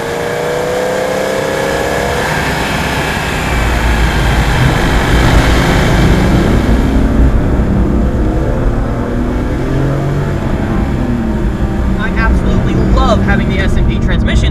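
A BMW E46 M3 fitted with an S&D transmission drives along back roads, its engine droning steadily and loudly from inside the cabin, with a shift and a rising pitch as it accelerates, while someone talks over the engine sound.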